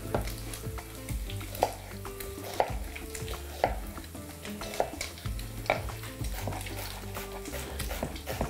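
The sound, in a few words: chopped onions frying in a pan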